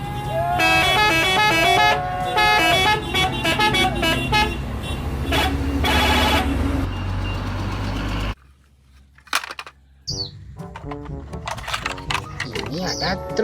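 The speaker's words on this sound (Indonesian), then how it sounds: "Ini ada mobil bus nih teman-teman" A bus drives past on a road, its horn sounding in several toots over engine noise, followed by a brief lull and then more passing traffic.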